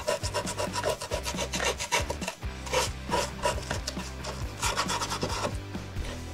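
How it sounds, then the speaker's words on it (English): A wooden box's corners and edges are smoothed by hand with 80 grit sandpaper, giving close, rhythmic rasping strokes that repeat back and forth in quick bursts. "just use the sandpaper, I think it's 80 grit, just to smooth out all of the corners"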